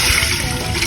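A pitcher of water pours into a cooking pot while beef tripe stew is being made, a brief continuous splashing trickle, close and steady.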